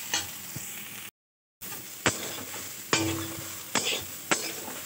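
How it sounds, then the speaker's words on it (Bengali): Dried soybean chunks frying in a pan, a low sizzle broken by several sharp clacks of a spatula striking and scraping the pan at irregular intervals, close and clear. "সয়াবিন বড়িটাকে ভালো করে ভেজে নিচ্ছি।"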